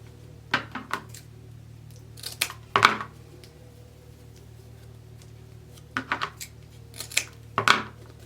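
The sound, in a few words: scissors cutting ribbon ends for a wreath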